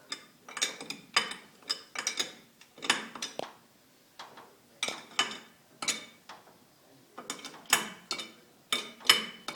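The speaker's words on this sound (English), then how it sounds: "Okay, so that Castle Nut's getting tightened up." Metal ratcheting and clicking in short repeated bursts as a castle nut is tightened on a 1929 Ford Model A pickup, close by with pauses between each run of turns.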